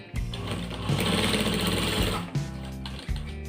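Sewing machine stitching fabric for an apple-cut shirt: a steady, fast mechanical rattle runs for several seconds, with brief pauses and restarts near the end, close and moderately loud.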